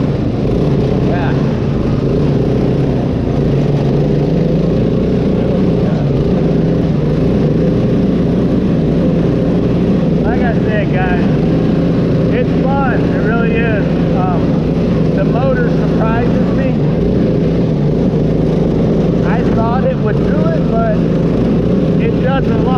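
A mud mower boat powered by a small Predator engine runs loud and close with a constant, throbbing drone, while someone talks over it through the second half.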